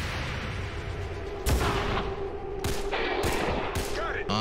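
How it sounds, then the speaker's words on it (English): Gunfire from the XCOM 2 video game, several sharp bursts of shots cutting in one after another over a steady game backdrop, fairly loud. "Nice, bit of return fire, bit of covering fire, takes him down."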